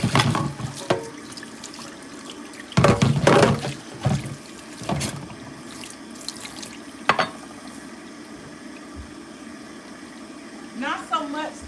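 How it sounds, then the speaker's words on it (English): Liquid pours and splashes off a cooked turkey into a kitchen sink in several loud, close bursts separated by quieter pauses, with a person speaking intermittently over the sound. "So, let's pour this turkey off."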